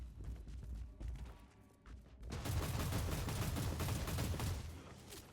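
Heavy gunners firing in the Warhammer 40,000: Inquisitor action game, a sustained rapid burst of loud gunfire that rises sharply and rattles on for a few seconds amid destruction noise.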